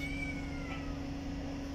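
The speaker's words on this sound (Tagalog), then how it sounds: "Oh, dami kong pusa guys." A cat meows once, a thin drawn-out call over a steady low background hum, fairly close, with no voices.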